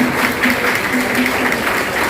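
Audience applause fills a school auditorium at a teachers' day honouring ceremony, a steady dense clapping from a sizeable crowd, loud and sustained.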